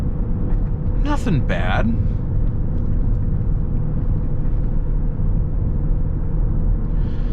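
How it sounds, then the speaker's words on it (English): Steady low road and tire rumble fills the cabin of a BMW X5 xDrive35d twin-turbo diesel cruising at about 50 mph, continuous throughout with a brief voice and a short squeaky chirp early on. "there's some road noise and some tire noise"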